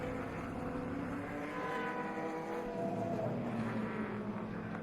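A race car in an endurance race on a track roars past at a distance. The engine drone is steady and fairly faint, with the pitch shifting gently as it goes by, and no one speaks.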